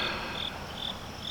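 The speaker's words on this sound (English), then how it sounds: "Lots of crickets." Crickets chirp beside a river, a few evenly spaced high pulsing trills standing out over a steady hiss of insect and water ambience; no voices.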